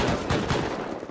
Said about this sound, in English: Where's the turret that was shooting me?